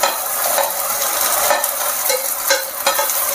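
Fried chicken pieces are stirred into a pan of sizzling fried spices and tomato ketchup while cooking egg chicken chowmein, with steady close frying hiss and a few louder scraping stirs of a utensil against the pan, no voices.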